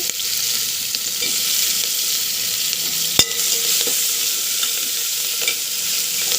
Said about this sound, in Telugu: ఇప్పుడు కట్ చేసి పెట్టుకున్న టమోటాలను కూడా వేసుకోవాలి